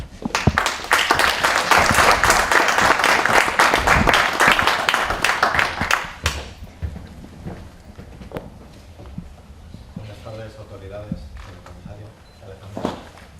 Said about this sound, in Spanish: Un fuerte aplauso para el Policía Nacional, Carlos Muñoz.